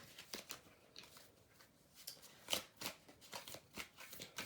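Tarot cards being shuffled in close, quick riffling and sliding bursts of papery patter that come and go over a few seconds, with no voice.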